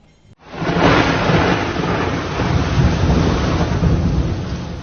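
Heavy rain pours down in a dense, steady roar with a low rumbling undertone, loud and close with no voices.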